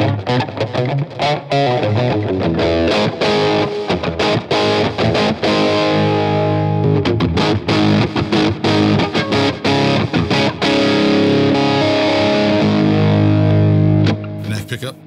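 Fender Telecaster electric guitar with its pickups wired out of phase, played through heavy distortion in a steady stream of strummed and picked chords, loud and close, alone without talk.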